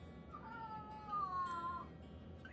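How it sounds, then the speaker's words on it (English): A house cat wanting to go outside lets out one drawn-out, wavering meow lasting over a second, somewhat distant and faint over a low background hum. "My cat wants outside."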